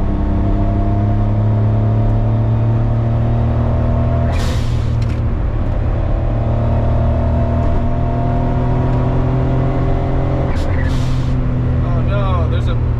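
An Autozam AZ-1 (Suzuki Cara) being pushed hard along a road: a steady, close engine drone holds throughout, with brief hissy bursts and clunks now and then, and voices at times.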